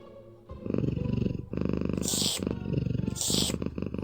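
A cat purrs in the video game Scott Whiskers: a loud, close, rhythmic rumbling purr that runs continuously, broken by two short bright hissy bursts.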